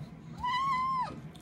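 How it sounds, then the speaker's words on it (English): A cat gives one drawn-out, clear meow with a falling end, close and fairly loud, heard alone during a perch catch-and-cook outing on a frozen local pond. "It's my cat."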